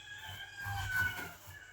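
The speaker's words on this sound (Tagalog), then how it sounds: "may manok nga na tumitilaok" A rooster crows once, a drawn-out call at moderate distance, with no talking over it.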